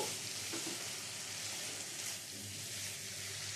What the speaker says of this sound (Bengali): আবারও কিছুটা নেড়ে ছেড়ে নেব